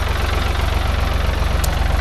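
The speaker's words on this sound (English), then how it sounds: "I'm out here with my Ford 3000 tractor" A Ford 3000 tractor engine idling close by, a steady low chugging thump with an even rhythm and no other sounds.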